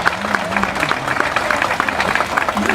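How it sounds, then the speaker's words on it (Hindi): A crowd at a political rally gives a loud, dense burst of applause to welcome a mayoral candidate, with voices mixed into the clapping throughout. "जोरदार तालियों से इनका स्वागत कीजिए।"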